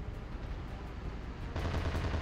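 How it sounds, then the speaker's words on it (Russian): Gunfire and blasts in the video game Ravenfield, a dense run of rapid shots and rumbling explosions that swells louder partway through, heavy and continuous with no talking. "По-моему, по мне кто-то стреляет, да?"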